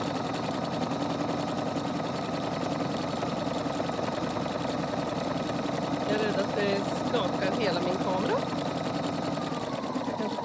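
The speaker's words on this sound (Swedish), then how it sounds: "Och nu har symaskinen kommit igång" A sewing machine runs steadily while stitching around the edge of a round fabric tablecloth, its fast mechanical whirr continuous and close, with a person speaking over it.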